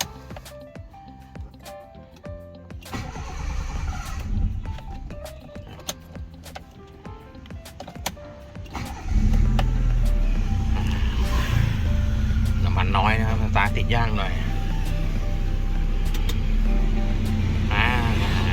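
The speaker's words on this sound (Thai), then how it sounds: "เรามารับชมตอนสตาร์ทเครื่องยนต์กันบ้างนะครับ" A 1997 Honda City S automatic sedan engine turns over and settles into a loud, steady idle after a stretch of talking and light handling noises inside the car.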